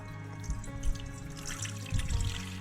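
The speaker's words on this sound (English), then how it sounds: "so now we pour this water out" Water pours out of a Disney 101 Dalmatians snow globe emptied for repair, a close, steady trickle and splash running for a few seconds with slight surges.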